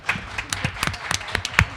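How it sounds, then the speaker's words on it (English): Scattered applause and clapping from an audience at a college talent show, honoring the judging panel; sparse, uneven claps that sound like a small crowd, with brief spoken sounds mixed in. "let's give them a round of applause."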